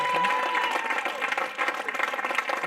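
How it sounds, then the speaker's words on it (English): A crowd at a football club's senior awards presentation night applauds with steady dense clapping and a few cheers, moderately loud and filling the room, with a voice faintly audible underneath. "Can we give him a big clap and shout?"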